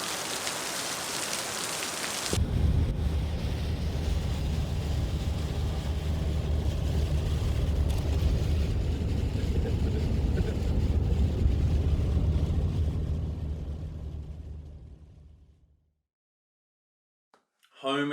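Heavy rain drums on a car roof and windshield during a drive home, a dense steady wash over low road rumble that starts abruptly, holds loud, then fades to near silence near the end.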